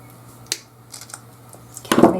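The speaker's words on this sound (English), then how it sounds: "I'm going to just take a pair of wire cutters and just go in and cut this off" Wire cutters snip through an overly long metal pin on a papercraft sewing machine treat box, giving a sharp close click near the start and a louder crunching snap toward the end, with quiet handling between.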